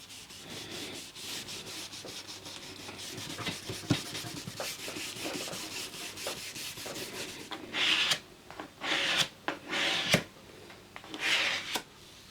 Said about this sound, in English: I'll rub it on and then scrape it off